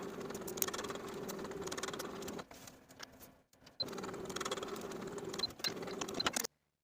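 A sewing machine stitches the back V seam of a tank top with a quick rhythmic mechanical clatter, pausing briefly for a backstitch near the middle before running again and stopping abruptly.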